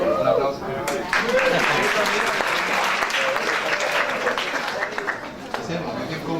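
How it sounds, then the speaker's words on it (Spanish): Lecture-hall audience at a biomass energy conference applauds, a loud burst of dense clapping that gradually thins and softens, with voices murmuring faintly underneath. "Un aplauso."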